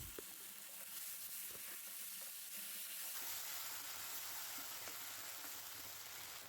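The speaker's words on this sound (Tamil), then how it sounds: "எல்லாத்தையும் நல்லா வதக்கிக்கோங்க." Tomato paste and onions sizzle and hiss in a pan while being sautéed for chana masala, a steady close frying sound with occasional stirring clicks.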